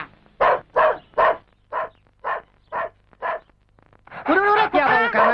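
A dog barks seven times in a steady, evenly spaced series, then a person starts talking loudly nearby.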